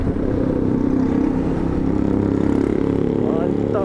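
A scooter engine drones loudly nearby with a throaty, pulsing putter that holds steady, with voices faintly underneath.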